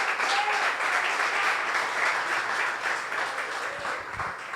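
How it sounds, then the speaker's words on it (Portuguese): A church congregation applauds in a steady, dense round of clapping that stays fairly loud and fades slightly near the end, with a faint low hum underneath. "Aplauda o Espírito Santo de Deus e pode se sentar"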